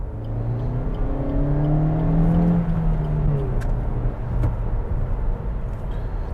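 A Suzuki Vitara S car accelerates, its engine note rising and falling through the revs with a loud, close rumble, then settling into road noise.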